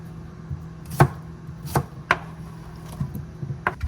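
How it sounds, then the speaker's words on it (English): A baby cucumber sliced with a knife on a cutting board at home, giving several sharp, separate chops spaced unevenly, close and moderately loud, with no talking. "I'm gonna slice that up"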